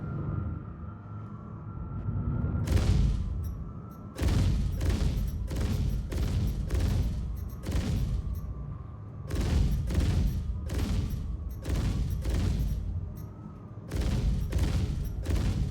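Ship cannons firing in the space game Star Citizen, heavy rhythmic volleys of booming shots repeating in steady bursts over a low engine drone, loud and close.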